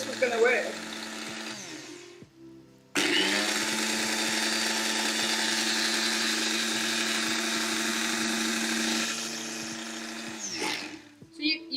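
An electric blender grinds edible glitter in a kitchen, starting with brief whirring bursts, then running at a loud, steady, continuous roar for about eight seconds before winding down.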